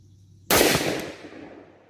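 A single sharp shot from a Springfield Armory Saint 5.56 rifle firing Hornady 55gr handloads, close and loud, its blast decaying over about a second with no talk.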